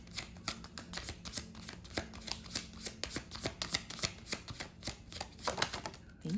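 Tarot cards being shuffled by hand, a steady run of crisp, papery riffles and slaps repeating close up, with no talking over them.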